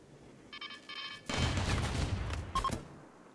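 Turret gunfire breaks out during a raid in the video game Rimworld, a dense burst of rapid shots lasting about two seconds. Brief electronic beeps come just before it and again near the end.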